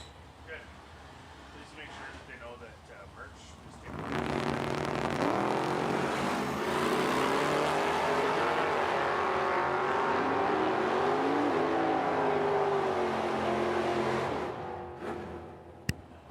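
Karmann Ghia and Firebird drag racing down the track at the Oil City Classic in Edmonton, engines erupting after a quiet stretch into a loud, sustained roar with rising revs over several seconds before fading, with an announcer talking throughout.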